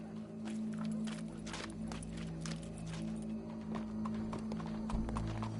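Horse hooves clip-clop at a walking pace in Red Dead Redemption 2, a steady rhythm of soft hoofbeats over a low ambient hum, fairly faint.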